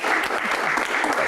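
Dense audience applause from a Q&A event crowd, loud and continuous hand clapping filling the whole short stretch with no talk on top.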